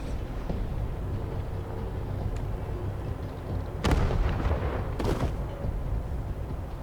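Heavy gunfire in a firefight in Wasteland 3, two sharp loud blasts standing out over a steady rumbling battle background, with no talking.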